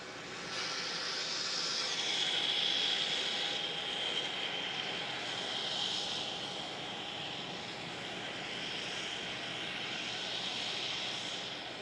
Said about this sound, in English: Qantas 498 heading off to Sydney on 27.